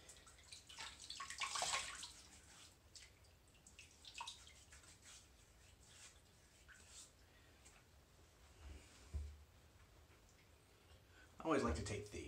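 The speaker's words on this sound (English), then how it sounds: "I'm gonna go ahead and wet my face real quick." Water splashed by hand onto a man's face before a wet shave, heard as a couple of short, moderately loud splashing bursts near the start and the end, with quiet dripping and faint voices in between.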